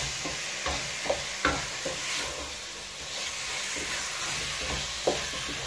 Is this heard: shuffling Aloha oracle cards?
no